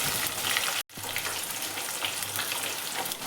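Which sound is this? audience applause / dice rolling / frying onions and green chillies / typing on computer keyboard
frying onions and green chillies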